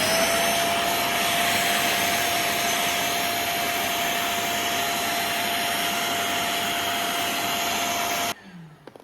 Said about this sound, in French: je vais me servir d'une champonneuse pour pouvoir du coup venir traiter le tapis